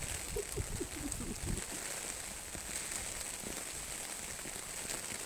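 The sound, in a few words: rain falling outdoors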